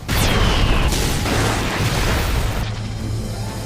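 A spell-attack explosion in the anime Mashle bursts out as a loud, sustained boom with a rumbling low roar that holds for several seconds, then shifts partway through into a steadier rushing tail.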